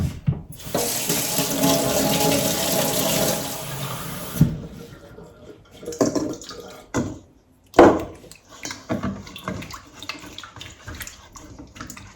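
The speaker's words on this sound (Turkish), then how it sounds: "Şimdi sıcak suyla bu mayayı açacağım." Hot water gushes from a kitchen tap into a bowl of yeast for dissolving, a steady rushing stream for several seconds, then intermittent splashing and handling clatter.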